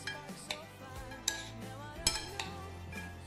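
Arugula salad with chopped walnuts is tossed in a bowl, giving light, scattered clinks and scrapes of a utensil against the dish at close range with no voices.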